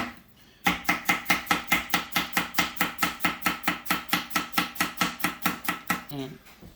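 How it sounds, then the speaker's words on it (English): Rapid, steady knife chopping on a cutting board, about thirty evenly spaced crisp thuds, loud and close, with no talking. "I'm going to cut up some onions."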